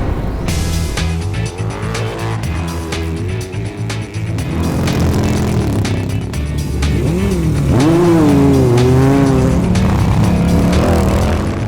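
Vintage motorcycles, including one from around 1913, race at the Malle Mile, with loud engines roaring and revving close by and bikes passing in overlapping waves throughout.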